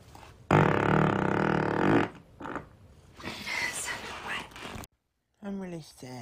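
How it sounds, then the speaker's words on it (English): A long, low, buzzing fart rumbles for over a second, followed by breathy whispering and murmured speech, then a short voiced sound at the end. "I have to fart again."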